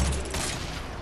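Rapid gunfire in the Fortnite video game, a heavy shotgun among the weapons: a loud, dense burst of shots that rolls together into one continuous crackling roar for about a second.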